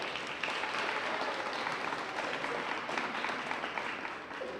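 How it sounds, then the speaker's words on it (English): Audience at a DARE graduation ceremony applauding a local TV channel, sustained dense clapping from a crowd that holds steady for several seconds before tapering off. "Give them a round of applause."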